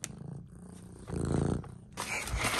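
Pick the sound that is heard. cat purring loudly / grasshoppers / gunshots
cat purring loudly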